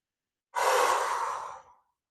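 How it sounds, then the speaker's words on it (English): One long purging breath during a qigong session, a slow breathy exhale out through the mouth, close and fairly loud, rising sharply and fading out after about a second, with no talk. "We're going to inhale through the nose and exhale out the mouth."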